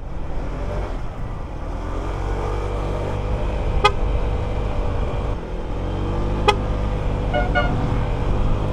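Two short, sharp car horn toots, a few seconds apart, over a steady low engine and road rumble on a mountain road toward a dam in Benguet, with a fainter double beep near the end.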